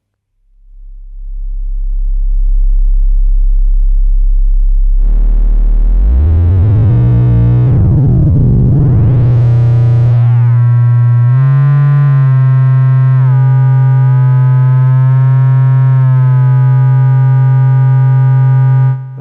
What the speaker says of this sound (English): So this will get us some FM tones